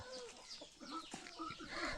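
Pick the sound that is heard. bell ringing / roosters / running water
roosters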